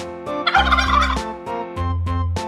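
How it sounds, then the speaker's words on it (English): A farm turkey gobbles loudly and close, a rapid warbling burst followed by several shorter honking calls, with no talking. "Turkey."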